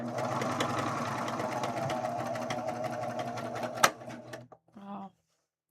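A sewing machine stitches steadily up close with its thread tensions off, then stops with a sharp click, and a voice follows briefly.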